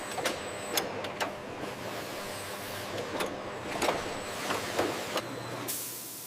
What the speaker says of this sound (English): Caps are automatically closed and tightened.